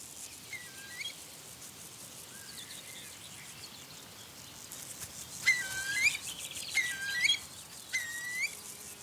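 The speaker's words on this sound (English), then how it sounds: "These may be the last shots of young curlews in this region." Young curlews in a marsh of the Upper Rhine Valley giving thin, rising calls, several short repeated notes at a distance over a steady hiss of insects, with no voices.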